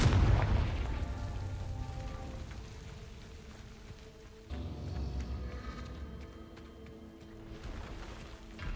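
A Confringo spell in the Hogwarts Legacy video game bursts with a deep boom that rolls out into a rumbling, crackling decay, followed by another blast midway, loud and alone.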